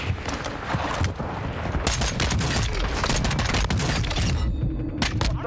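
Heavy, rapid booming and crackling from a mortar strike in Call of Duty Warzone, with a string of loud blasts and rattling impacts packed together, easing briefly near the end before more hits.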